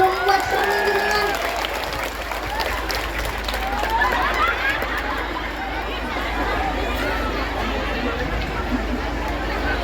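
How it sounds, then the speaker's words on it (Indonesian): A large crowd of townspeople in Keluang claps at a comedic religious talk, the applause mixing with chatter and murmuring from the audience throughout. "Tepuk tangan dulu"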